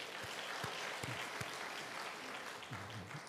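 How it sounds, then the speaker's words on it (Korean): Applause from a church congregation at a Friday late-night service, a faint, distant, continuous rattle of many hands with occasional low knocks and a brief murmur of voice near the end. "큰 박수로."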